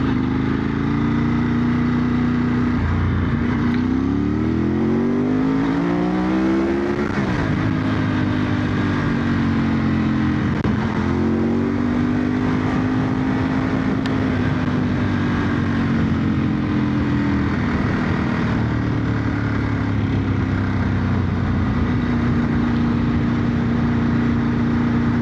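A Ducati 916 motorcycle rides along a country road through a village, its loud engine droning steadily while revs rise and fall through the gears, close and continuous without talk.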